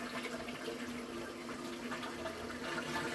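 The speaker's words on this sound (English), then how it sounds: "Let it run for a minute. Rinse out all the water." Water running steadily into a toilet bowl after a flush during a leaking-toilet repair, a continuous soft rushing and trickling at low, even level with no speech.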